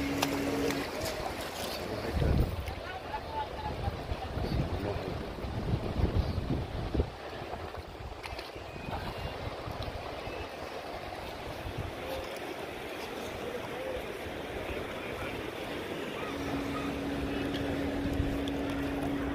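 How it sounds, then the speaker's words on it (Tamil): Fast, forceful Narmada river water rushes past the bank in a steady broadband roar, with wind buffeting the microphone and no speech over it. "தண்ணி வந்து அங்கே நல்லா வேகமாக போகுது, ஃபோர்ஸாக இருக்குது."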